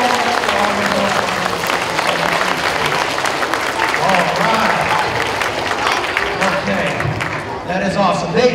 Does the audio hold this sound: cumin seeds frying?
no